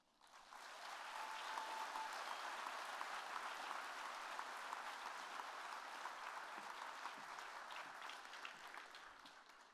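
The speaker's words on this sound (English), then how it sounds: "Kansas FFA, join me in thanking my counselor and principal, Mr. and Mrs. Murphy." A Kansas FFA convention audience applauds during a retiring address. The clapping swells quickly and holds as a dense, steady ovation for several seconds, then slowly thins toward the end.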